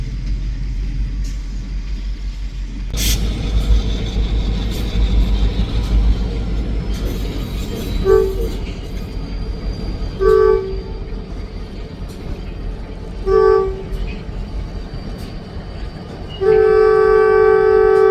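A train passing with a continuous heavy rumble as its horn sounds in several separate blasts, the last one longer and louder, with no talking over it.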